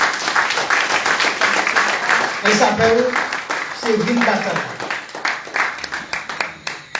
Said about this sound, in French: Donc, merci de l'applaudir